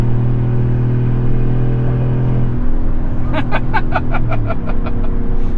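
GMC Sierra pickup with a 6.2L V8 towing up a 6% grade, a loud continuous engine drone and rumble with a steady hum, while someone talks over it near the end.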